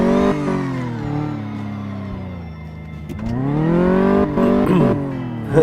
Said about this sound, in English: Peeling out.